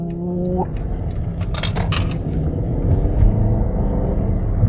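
A car engine revs while the driver waits to make a U-turn, giving a steady close rumble with faint jingling on top and a brief rising blip near the start.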